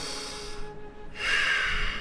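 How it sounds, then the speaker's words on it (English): A deep nasal breath from a breathwork session, first a sharp sniffing intake, then a brief pause, then a fuller, louder airy exhale, all close to the microphone. "Take a big inhale through the nose, expand the belly, and exhale, contract."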